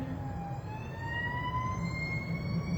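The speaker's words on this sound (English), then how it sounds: "You hear the siren outside?" A siren wails outside, its rising tone heard at moderate distance over a steady background rumble of traffic, with no talking.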